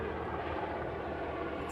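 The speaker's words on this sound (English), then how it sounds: "the helicopters are out" Helicopters fly overhead on a clear day, a faint, steady rotor and engine rumble with no pauses, heard at a distance outdoors.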